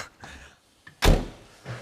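A door on a 35-year-old VW camper van is closed, landing as a single loud, near thunk after some quieter handling noises, with a softer knock trailing after it.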